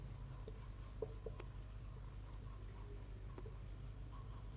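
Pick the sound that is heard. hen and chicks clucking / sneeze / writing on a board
writing on a board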